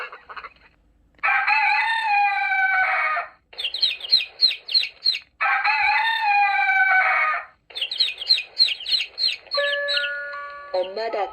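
A children's sound book plays recorded chicken sounds: loud rooster crows alternating with bursts of rapid clucking and chick cheeping, clear and close, ending with a short electronic jingle.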